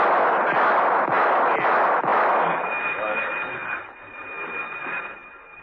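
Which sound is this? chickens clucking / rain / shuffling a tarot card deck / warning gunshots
warning gunshots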